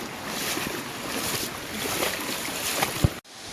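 A waterfall on the Gabrielino Trail in spring after heavy rain, rushing as a steady, broad wash of water, close and fairly loud, with no voices, before cutting off abruptly near the end.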